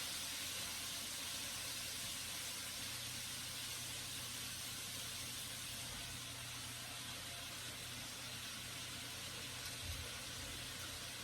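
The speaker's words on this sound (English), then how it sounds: "Look at that sizzle." Vegan soul food sizzles in a pot with a steady, even hiss that stays soft and continuous, with no voices.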